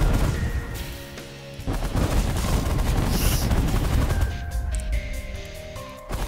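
Dense, continuous gunfire and flying bullets fill a space battle in the video game The Last Federation, loud and sustained rattling bursts over a low rumble, with no one talking.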